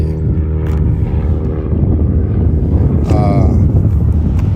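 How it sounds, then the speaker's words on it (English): An airplane takes off, its loud, continuous roar rising and filling the air with wind buffeting and a voice heard faintly underneath. "That airplane just took off."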